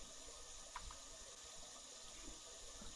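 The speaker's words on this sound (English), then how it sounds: "Actually, I don't love hearing the water on." Water running from a tap in Phasmophobia, a faint, steady hiss of flow held the whole time, quiet and unbroken.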